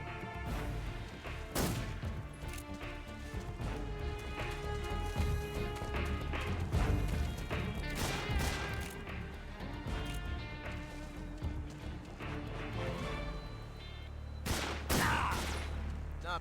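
Gunfire from Metal Gear Solid 3: Snake Eater, with scattered sharp shots and impacts mixed with crashes and game music, sometimes spaced apart and sometimes clustered, moderately loud throughout.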